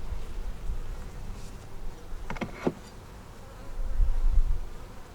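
Honey bees buzz steadily around an open nuc hive with its top box full of brood and stores, a continuous close insect drone with a few louder passes near the listener.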